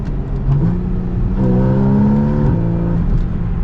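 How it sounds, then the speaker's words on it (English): Porsche 981 Boxster S driving with the exhaust switched to the loud setting, a close, sustained engine note that climbs in pitch as it revs mid-pass, then settles back to a steady drone; no talking. "then we'll pop it over into the loud setting."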